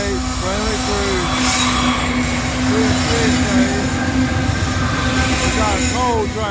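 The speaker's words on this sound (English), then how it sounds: "We got a coal train coming" A loaded coal train rolls past at close range, its steady low rumble of railcars running throughout with repeated wheel squeals and a sustained horn-like tone, no speech audible.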